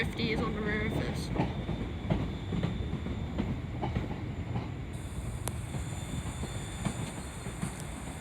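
Class 350 electric multiple unit passing through Crewe station on the West Coast Main Line, a steady rumbling hum with rail clatter and a brief high squeal, heard from the platform with faint voices nearby.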